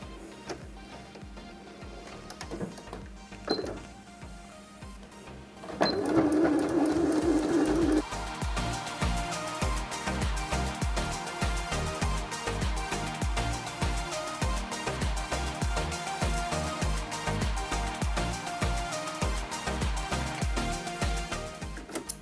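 Fabric being machine-stitched around a small Easter basket piece with a backstitch, a steady fast mechanical clatter running continuously and fairly loud after a brief quieter start.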